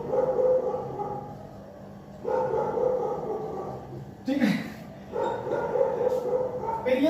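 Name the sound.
dogs barking in the street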